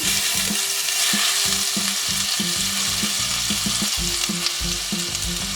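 Spices such as ginger and green chili paste with hing frying in a pan while being mixed: a loud, continuous close sizzle with busy stirring and scraping throughout, and no talking.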